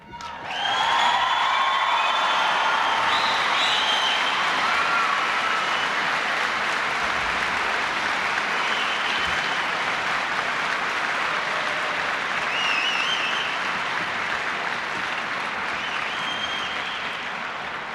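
Sustained audience applause and cheering fill a NATO airbase in Keflavik, Iceland, during a 1986 presidential speech, loud and steady throughout with scattered whoops, slowly easing near the end.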